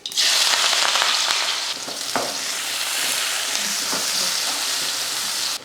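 Small shallots, garlic cloves and curry leaves hit hot oil for bitter gourd curry, a loud, dense crackling sizzle that runs steadily throughout, close up, with a few stirring scrapes and no talking.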